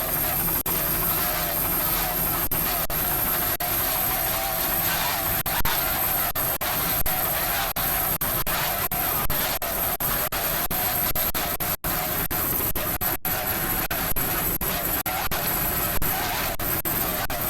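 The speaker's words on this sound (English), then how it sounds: "Nice throttling there by Mr. David Horseman." An offshore racing powerboat engine roars steadily and loudly at the 1997 New Jersey Offshore Grand Prix in Point Pleasant. The drone holds at a high level throughout, with brief dips and a faint crowd murmur underneath.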